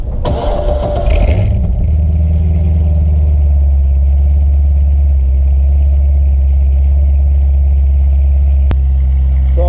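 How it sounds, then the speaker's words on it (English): Corvette C6 Z06 cold start with the exhaust open: a loud starter crank and sharp catch into a roaring flare, then a deep, steady, rumbling high idle close by, with a brief spoken word at the start. "I'll throw a little sound clip right now in of a cold start on the car so you guys can hear it, and this is going to be with the exhaust open."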